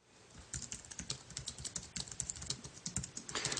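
Rapid, steady tapping on an iPad keyboard dock while an iPhone 3G is attached, close and crisp keystrokes in an even rhythm with no talk.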